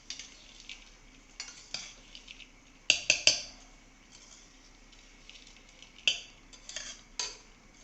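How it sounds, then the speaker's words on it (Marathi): Raw mango bhel is stirred and tossed in a bowl, sparse spoon scrapes and clinks with a sharp cluster of clatters in the middle, over near silence. "छान असं हलवून घ्यायचे मिक्स करून सर्व करायचे"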